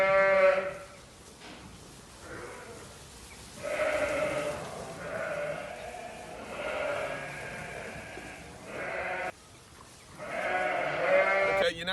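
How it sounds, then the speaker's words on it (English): Ewes and lambs bleat on a farm, overlapping calls rising and falling in waves, some close and loud, others farther off, with a brief lull midway. "walk all of these ewes and lambs, which have got used to finding one another in a larger area"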